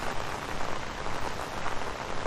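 Heavy rain falling in Mooresville, North Carolina near Lake Norman, a dense, steady hiss of drops pattering on surfaces close by, continuous and loud with no voices.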